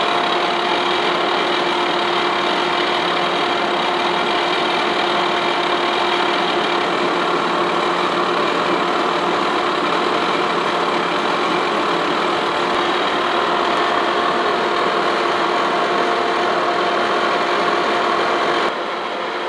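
A milling machine takes a first cut into metal while making a tool holder for a vertical shaper. It gives a loud, steady whirring drone with a constant tonal hum that continues unbroken until it stops abruptly near the end.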